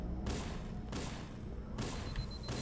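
Bursts of enemy gunfire in Halo CE, three sustained volleys with short gaps, loud and dense against a low rumbling game background.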